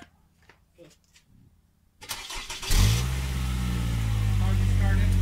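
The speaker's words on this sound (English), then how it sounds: "Car just started." A used car's engine cranks and catches, then settles into a steady idle, loud and close, after a quieter stretch of faint handling noises.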